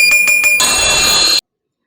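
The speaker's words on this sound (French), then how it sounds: "Activez la cloche de notification pour recevoir toutes les nouveautés." Notification bell effect: three quick bright chimes ring out, then a sustained shimmering bell tone holds loudly for about a second before cutting off abruptly into silence.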